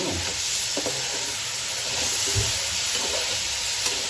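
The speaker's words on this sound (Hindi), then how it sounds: "हमारा गोश्त भी जो फ्राई हो जाएगा बीच में।" Chicken pieces for biryani fry in a pan with a steady, loud sizzle, broken by occasional stirring scrapes and clinks close by.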